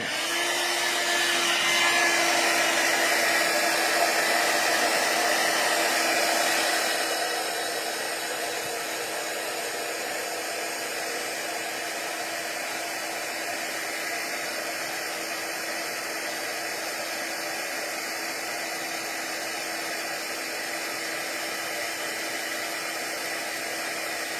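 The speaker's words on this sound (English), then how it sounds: "I don't know that my heat gun will stretch this far, but oh, it did." A heat gun used for heat embossing on a Christmas lights card craft blows with a loud, steady, hair-dryer-like rush. It drops slightly in level after the first few seconds and then keeps whirring evenly.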